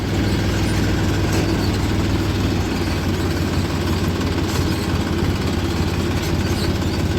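A tractor engine idling inside a sugar mill, a loud steady low rumble that holds unbroken throughout with no talk over it.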